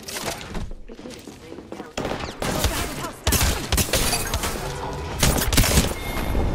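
Gunfire in Apex Legends rattles in dense, rapid bursts that grow louder and closer partway through, with a player's voice talking over the shooting.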